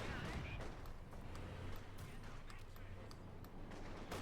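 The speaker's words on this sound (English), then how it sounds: "Mortar after so far is not doing a lot of damage." Mortar fire in Company of Heroes 2, a World War II strategy game, sounding as dull thuds and crackling impacts within a dense, noisy battle mix.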